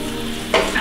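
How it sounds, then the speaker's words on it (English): Onions hitting hot oil in a skillet for beef curry, a steady close sizzle that flares louder as they land and then keeps frying. "we're gonna add a tablespoon of oil and then add our onions"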